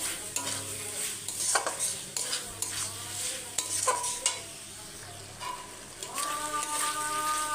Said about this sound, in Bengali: আমি চিকেন কিমাটা ভালো করে কষে নেবো মশলার সাথে যতক্ষণ না তেল ছাড়ছে ততক্ষণ আমি কষতে থাকবো